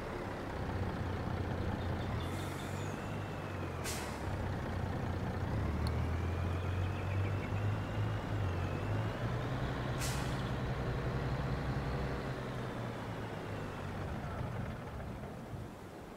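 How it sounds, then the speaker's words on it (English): A logging truck rolls along in Farming Simulator 22 in a forest, its engine droning low and steady throughout, with a few sharp hissing air-brake bursts breaking through. "Okay, my truck won't stop rolling."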